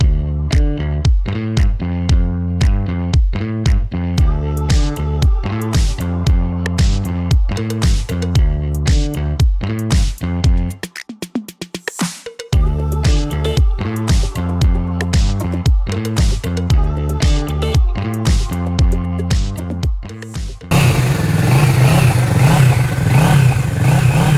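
Kawasaki Z650 ABS motorcycle, a 2021 model, idling and blipped through rapid throttle revs in a steady pulsing rhythm, with a short lull near the middle and then a denser, rougher roar toward the end; close and loud.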